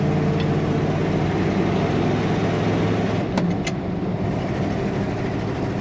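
Engine of a 1970 Dodge W200 Power Wagon crew cab 4x4 while driving, a steady loud mid-pitched drone with cabin rumble, holding constant with a brief click or rattle partway through.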